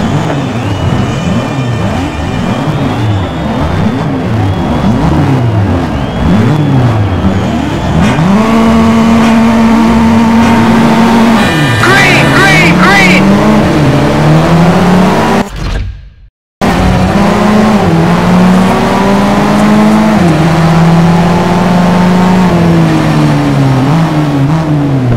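Race car engines during a night race in Need for Speed: Shift 2 Unleashed, loud and close, revving and shifting through gears with rising and falling whines, a sustained drone, and a brief cut to silence midway.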